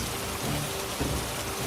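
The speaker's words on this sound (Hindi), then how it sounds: "जोर जोर से बारिश शुरू होने लगती है" Heavy rain pours steadily in a Hindi cartoon story as a boat crosses the middle of a river, a dense, constant hiss and patter filling the short clip with no voices.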